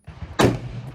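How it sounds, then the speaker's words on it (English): A single sharp rifle shot cracks out at an outdoor shooting range, loud and close, followed by a brief fading echo. "Taking some shots"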